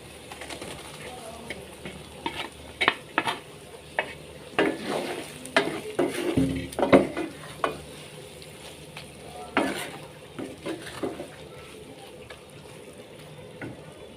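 Fried eggplant pieces going back into hot oil for a Bengali eggplant pickle, with bursts of stirring and crackling sizzle coming in clusters over a low background, close and moderately loud, with birds faintly audible nearby.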